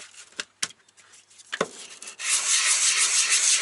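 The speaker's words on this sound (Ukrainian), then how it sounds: "Я завжди люблю притерти. Беремо зараз притираємо трошки." Brush cutter part rubbed flat on a surface, a few scattered scraping strokes, then a steady close abrasive rasping that grows louder toward the end.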